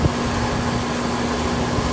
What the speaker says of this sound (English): This compressor's still running.